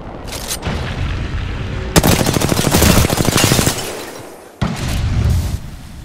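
Loud, rapid automatic gunfire in Apex Legends, with a long sustained burst in the middle, shorter volleys and booming impacts around it, and no talk over it.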